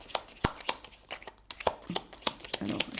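Tarot cards are handled and shuffled during a card reading, quick crisp flicks and slaps in an irregular patter, close and soft, with no talk.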